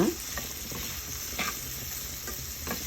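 Bitter gourd pieces are stirred in a hot pan, giving a steady close sizzle with soft rhythmic scrapes of the spoon every half second or so, alone and without talking.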